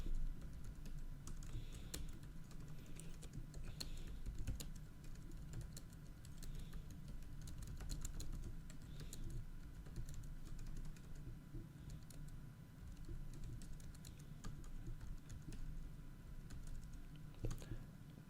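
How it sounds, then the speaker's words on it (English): Typing on a computer keyboard while entering text in a Unix/Linux terminal editor, a steady stream of light clicking keystrokes over a low background hum, close and fairly quiet. "and then you can start typing"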